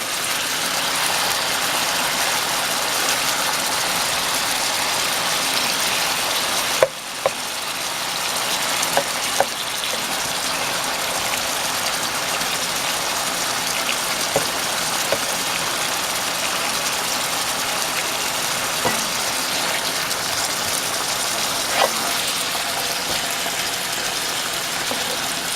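Black pepper chicken fries in a pan, a loud, steady sizzle that holds without a break, broken only by a few faint clinks and pops.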